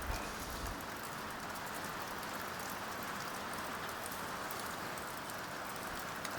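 Rain falling off the grid in the Australian bush, a steady soft hiss of drops on surfaces, continuous and fairly faint, with no voices.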